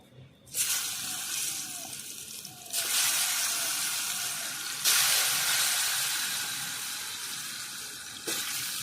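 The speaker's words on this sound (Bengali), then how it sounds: "আলুগুলো এবার একটু লাল করে নেব হালকা করে" Turmeric-coated potato pieces go into hot oil for browning, each batch bringing a sudden burst of hissing sizzle that stays broad and steady, close by, with a couple of fresh surges as more pieces drop in.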